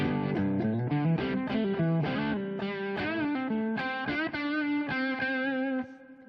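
Electric guitar through a Wampler Plexi Drive Deluxe overdrive pedal, gain at noon, playing a run of crunchy chords and notes, gritty and sustained, alone at steady volume before cutting off near the end.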